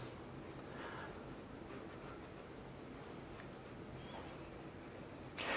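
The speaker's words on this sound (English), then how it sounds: "So I am just going to draw a horizontal line." Pencil drawing a horizontal line across paper during a drawing lesson: a faint, steady graphite scratch lasting several seconds against a quiet room, ending in a brief louder rustle.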